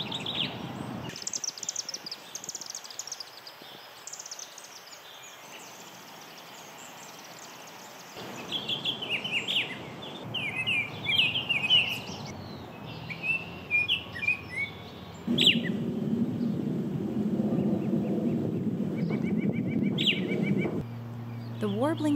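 Several common eastern woodland birds sing in turn, bright chirps, whistled phrases and rapid twittering close by, with a lower droning call near the end; no talking.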